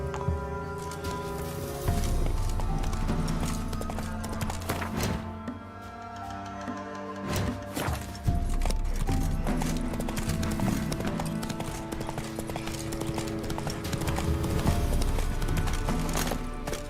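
Galloping horse in The Witcher 3: Wild Hunt, a loud, continuous drum of hooves under game music, easing briefly before picking up again, with faint rain-like ambience.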